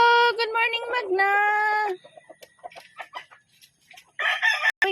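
At feeding time, a rooster crows loudly nearby, followed by scattered soft clucking and a burst of hen squawks at the end.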